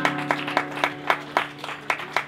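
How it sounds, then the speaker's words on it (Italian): Scattered audience clapping at a live show in an osteria, a handful of uneven, separate claps over a steady musical drone, fairly close and moderately loud. "Guarda che puoi applaudire più forte"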